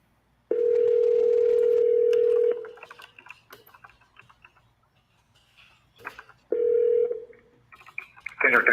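A steady telephone dial tone sounds for about two seconds, followed by quieter line noise and clicks, then a second, shorter burst of the tone and further clicks near the end.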